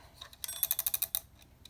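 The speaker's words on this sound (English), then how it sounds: "Set the timer to 15 minutes" A kitchen-style timer being wound to 15 minutes, giving a fast burst of about eight bright mechanical ticks close by, with a few lighter clicks around it and no voices.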